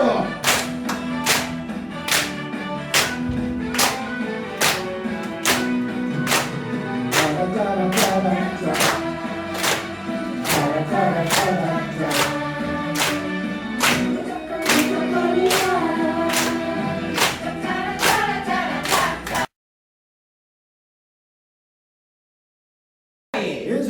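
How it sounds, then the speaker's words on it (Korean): A group claps hands in a steady, brisk rhythm during a dementia-prevention exercise class, loud and regular for about twenty seconds and then stopping, with singing voices faint underneath. "박수!"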